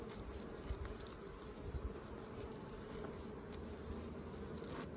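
A low, dense buzzing of many honeybees around a beehive fills the air continuously, quiet and steady with occasional nearer hums.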